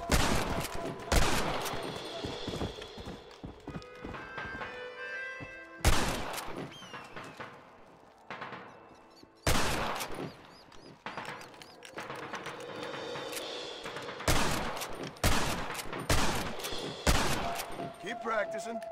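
Sharp gunshots from a Red Dead Redemption shooting contest crack out in scattered bursts, each loud report followed by quieter gaps, with a few rapid clusters of shots.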